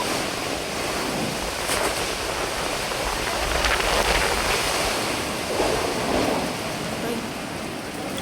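Strong typhoon wind roars in broad, surging gusts that swell and ease over several seconds, loud and constant with no voices.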